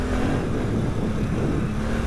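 A 2021 Can-Am Outlander 850 XMR ATV with an aftermarket exhaust revs under throttle, a steady, fairly loud engine drone with a low rumble, close by and with no talk.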